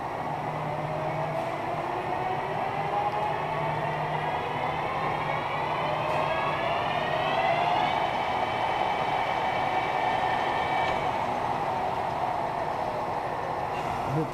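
JET 26 x 80 lathe motor starting slowly and running clockwise, a steady loud mechanical hum and whine with tones that rise as it comes up to speed, no talking.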